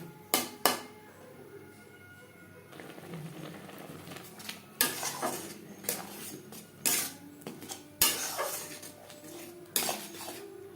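Poa bhola fish with green chili paste and spices is mixed in a pan, a utensil clanking and scraping against metal in irregular sharp knocks over a faint background hum.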